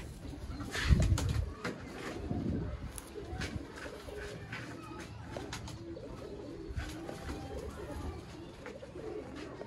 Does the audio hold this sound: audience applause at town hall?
no